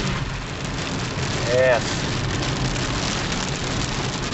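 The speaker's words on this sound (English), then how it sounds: "it's really, really raining out there" Steady heavy rain drums on a car roof and windows, a dense constant patter heard from inside, with a brief voice answering once.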